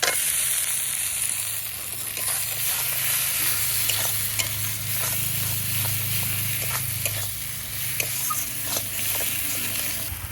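Long-cut tomato slices drop into a sizzling spice paste in a pan, a steady close hiss with a low bubbling rumble underneath and scattered spoon scrapes and taps, no one speaking.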